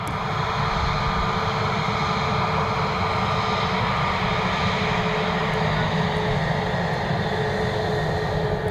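A Frontier Airlines Airbus A320neo jet at Cleveland Hopkins airport gives off a steady, loud engine roar and whine, continuous and unbroken with no voices.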